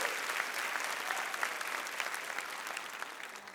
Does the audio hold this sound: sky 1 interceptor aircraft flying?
no